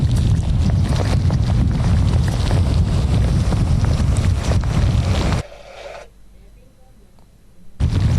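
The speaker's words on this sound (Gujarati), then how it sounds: "પવનની ગતિમાં વધારો થઈ ચૂક્યો છે" Loud, roaring gusts of Cyclone Biparjoy's wind at Porbandar, Gujarat, buffet the microphone continuously, then cut to near quiet before the roar returns.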